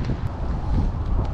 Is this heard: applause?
no